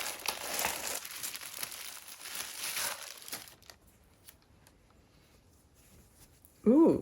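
Plastic wrapping crinkles and tears as a t-shirt from a tattoo-themed subscription box is unwrapped, a near, busy rustle for about three and a half seconds, then quiet before a brief voice at the end.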